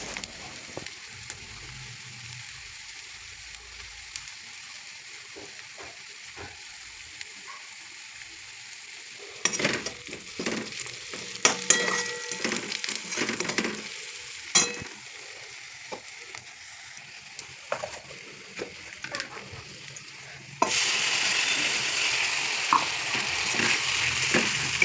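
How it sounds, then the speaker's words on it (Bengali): Spices sizzle in hot oil with browned onions in a pan, a soft steady crackle broken by scraping and stirring clatter, growing louder and denser toward the end. "মশলা দিয়ে দিয়েছি, মশলাটা হালকা ফ্রাই করে একে একে গুঁড়ো মশলাগুলো দিয়ে দেবো।"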